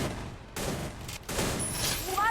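Gunfire in the mobile battle game Free Fire, a dense clattering of rapid shots and game effects, loud and continuous with brief gaps, under a talking player.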